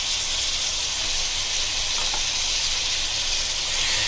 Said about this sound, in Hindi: इसको भी अच्छे से भूनेंगे